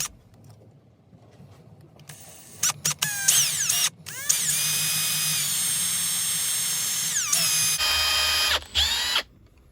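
A power drill drives tiny screws into a yacht binnacle throttle control head, with short whirring bursts, then a long steady high-pitched spin with a shift in tone near the end, close and clear.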